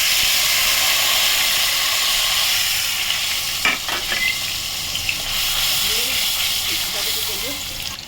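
Water splashes into a hot pan over spice paste and black cumin, bursting into a loud, steady steam hiss and sizzle with some stirring clatter, easing slightly toward the end.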